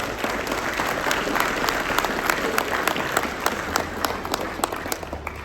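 An audience at a 2024 Prince Hall Day service claps for an honored official, a steady, moderately loud round of applause with sharp individual claps standing out near the listener throughout.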